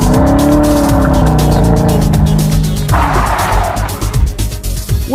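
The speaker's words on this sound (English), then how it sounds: "Finally, I get to drive this thing with fresh tires." A project car on fresh tires is driven hard, its engine roaring up close with repeated tire squeal and skidding as it is pushed through the course, loud and continuous.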